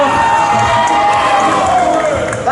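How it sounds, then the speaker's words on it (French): A large crowd cheers and shouts at a knights-versus-barbarians show in Angers, a loud, dense roar sustained from start to finish with some high children's shouts mixed in. "Allez, on les applaudit bien fort."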